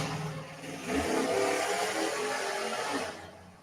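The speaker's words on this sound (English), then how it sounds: "if I had a car that could make that kind of noise, I'd make noise with it too" A car engine revs hard at a live outdoor broadcast in Allendale, Michigan, a loud sustained roar that swells after the first second and holds before easing off near the end.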